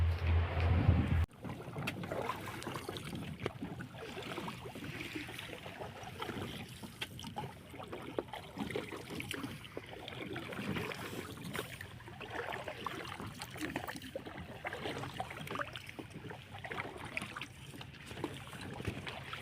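Steady watery swishing of wooden paddles working through water, propelling a sport catamaran on the Adriatic Sea, continuous and close, with a faint breeze and no talking.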